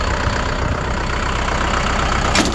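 A loud, steady tractor engine with a Lovol power unit idling nearby, a continuous rumbling drone that holds even throughout.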